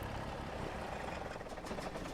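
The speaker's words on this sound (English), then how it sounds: "Shut it off. I think I left the tractor running." A tractor engine runs in Farming Simulator 25 during a potato harvest, a steady, even rumbling drone that continues throughout with no voices.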